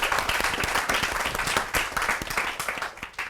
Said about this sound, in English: Big round of applause for Shazia.